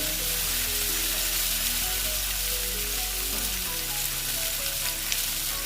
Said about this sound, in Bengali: দিয়ে আমি আবার ভালো মতো ভেজে নেব টমেটোর যেন কাঁচা গন্ধটা